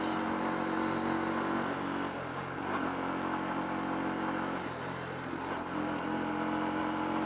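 A motorcycle engine drones at a steady high pitch at about 6,000 rpm, continuous and loud, with slight wavering in tone throughout.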